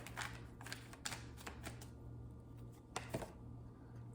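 Soft, rapid riffling and tapping of tarot cards being shuffled by hand, close and quiet, with a faint steady hum underneath.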